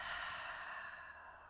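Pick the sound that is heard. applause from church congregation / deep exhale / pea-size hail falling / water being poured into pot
deep exhale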